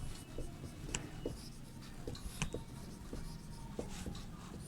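Sanskrit words written on a classroom board, short scratchy strokes in an uneven rhythm, faint and close, with no talking.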